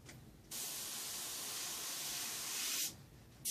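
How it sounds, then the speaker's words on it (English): An airbrush used for painting a dragon releases a steady, close hiss of air with a slight spray. It runs unbroken for about two and a half seconds, then cuts off, with no talking. "I'm getting a little bit of spray with it, just a tiny bit."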